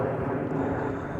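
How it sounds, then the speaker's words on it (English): A loud airplane flies overhead above a garden, its engine a steady, broad roar that fills the whole stretch without a break. "We are back with the planes. And that is a loud one."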